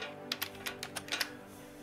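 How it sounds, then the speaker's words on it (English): Quick keystrokes on a computer keyboard, about seven close, crisp taps in an uneven burst, with no voice over them. "And I want to type in Rick"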